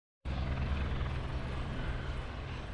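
A helicopter's steady, loud rotor drone in a TV drama starts abruptly and holds, a deep throbbing chop beneath a broad engine roar.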